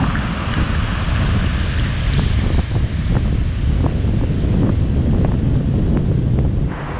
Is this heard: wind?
yes